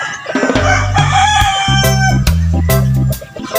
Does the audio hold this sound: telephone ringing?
no